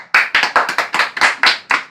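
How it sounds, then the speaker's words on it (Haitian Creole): Hands clapping in a classroom, about nine sharp claps in a quick, slightly uneven rhythm, loud and close with no talking. "Applaudis."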